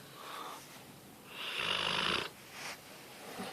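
Soft, close snoring rises and falls in slow, rasping breaths at low volume, with a louder throaty snore in the middle of a quiet room.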